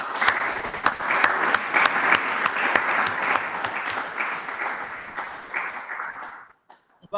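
An audience at a Deep Learning IndabaX Congo conference claps steadily for about six and a half seconds after a talk, a dense, loud wash of hand claps that cuts off abruptly near the end.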